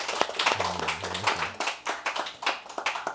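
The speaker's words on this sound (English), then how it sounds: "We've got a round of applause for Vallu for that." A brief round of applause from a small audience at a talk on nationalism and empire, sparse hand claps that start with a short voice and then patter unevenly before thinning out.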